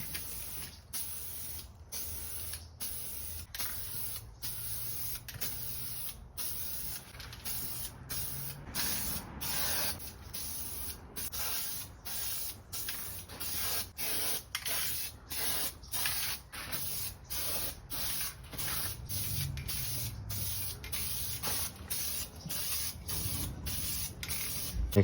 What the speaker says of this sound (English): Now we're gonna get started on the first coat of paint.